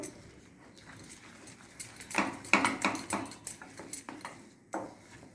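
Scraping and clinking of a utensil against a pot while stirring semolina on a gas stove, irregular strokes repeating at a close distance, with no talking.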